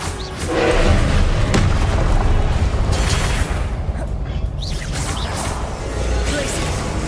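Expelliarmus and other dueling spells fire in Hogwarts Legacy, booming, crashing impacts that roll out in heavy bursts over several seconds, with spoken game voices mixed in.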